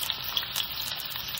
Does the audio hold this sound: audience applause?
no